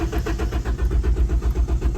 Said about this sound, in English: with the car in first gear and cranking that starter motor